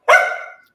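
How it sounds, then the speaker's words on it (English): A dog gives one sharp, loud bark close by, with a brief tail that fades out within a fraction of a second. "sorry about my dog"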